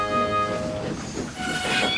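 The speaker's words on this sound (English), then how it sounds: "Gordon pulled up alongside Thomas as he tried to pull a long line of tankers." Steam engine on a railway hauling a long line of tanker wagons, giving a steady continuous rumble with ringing metallic overtones and a brighter hiss swelling toward the end, close and fairly loud with no talk.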